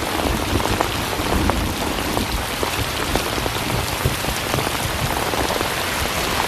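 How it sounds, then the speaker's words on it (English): Heavy rain pours steadily onto hard surfaces, a loud, dense patter of drops with faint thunder deep underneath. There are no voices. "the rain's picking up."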